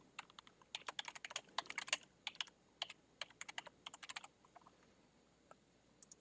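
A computer keyboard clatters with quick, close bursts of key presses while someone types a short item description for field mapping, pausing briefly near the end before a couple of final taps.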